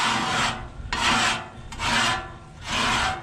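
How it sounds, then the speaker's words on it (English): A scraper drags across a Blackstone griddle top to lift a layer of gunk, giving four rhythmic, gritty rasping strokes with short pauses between them, close and fairly loud, with no talking. "I'm just scraping."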